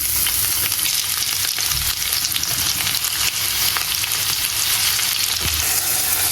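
Onion goes into hot oil already tempered with bay leaf and cumin seeds, giving a loud, steady, unbroken sizzle with light stirring noises and no talking.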